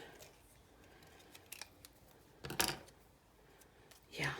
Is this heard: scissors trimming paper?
yes